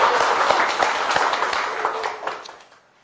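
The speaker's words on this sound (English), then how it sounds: "clap your hand" A classroom of students claps hands together in a brief, lively burst of applause that fades out over a few seconds.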